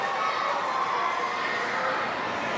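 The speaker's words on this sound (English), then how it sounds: "Fans cheering him now" A wrestling crowd cheers in a steady, distant roar, a continuous wash of many voices with no clear breaks across the short span.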